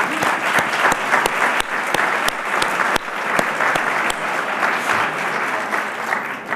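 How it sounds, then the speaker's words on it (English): An evening event audience at a St. Francis College honors gathering breaks into applause, loud sustained clapping from many hands, with a few sharp distinct claps standing out near the front. "we all got excited and applauded"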